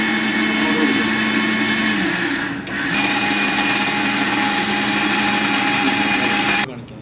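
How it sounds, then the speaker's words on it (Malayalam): A mixer grinder whirs loudly and steadily as it blends ragi dosa batter with added water, its motor pitch dipping briefly midway, then running on until it cuts off near the end. "ഞാൻ മിക്സിയുടെ ജാറിനകത്ത് പേസ്റ്റ് ചെയ്തെടുക്കുവാണേ"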